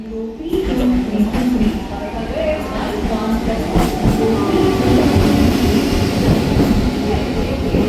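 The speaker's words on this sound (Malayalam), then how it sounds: "Train number 66307, Ernakulam-Quilon, Maroon, is just arriving on platform number 3." An Ernakulam-Quilon MEMU train rolls into platform 3 with heavy rumbling, clattering wheels and faint squeals, close and loud, while voices are heard nearby.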